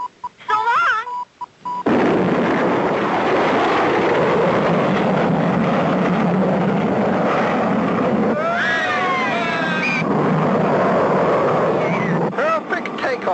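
A cartoon rocket takes off in a 1959-60 animated space-station episode, a loud, continuous rushing roar that swells after a brief opening and holds steady, with whistling sound effects overlaid partway and voices heard at the edges.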